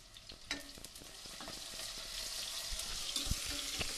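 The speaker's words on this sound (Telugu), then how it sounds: "కరివేపాకు వేసుకొని వేపుకోవాలి ఇవి కాస్త వేగాలి" Curry leaves fry in hot oil in a pan, a steady close sizzle with scattered crackles and a few soft stirring scrapes, no talking.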